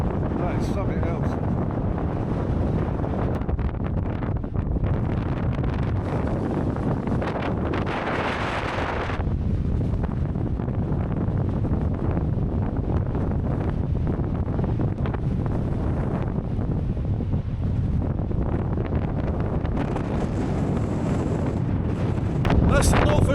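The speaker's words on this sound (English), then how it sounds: "That's the North Atlantic battering this coast." North Atlantic waves pounding a rocky Irish coastline, a loud continuous roar and wash of surf heavily buffeted by wind noise on the microphone, with a voice speaking over it now and then.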